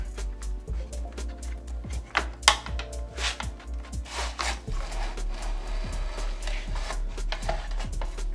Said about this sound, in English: we're going to pull up and slide this battery out